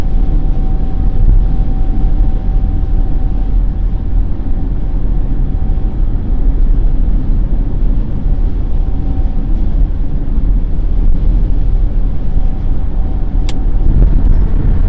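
A van with a freshly cleaned mass airflow sensor drives through town in light traffic, its engine and road noise forming a steady, continuous rumble heard from inside the cab, without talk.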